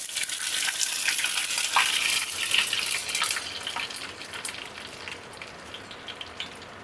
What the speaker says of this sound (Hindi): ये मैं करी लीफ डाल रही हूँ।